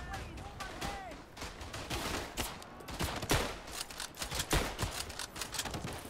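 Gunfire in the First World War shooter game Verdun, a dense battlefield din of rifle cracks and scattered shots going off continuously at varying distances, with a voice talking over it.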